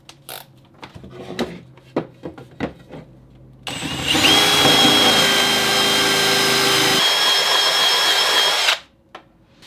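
Several faint taps and clicks, then a power drill whines loudly and steadily for about five seconds, cleaning up drilled holes, before stopping.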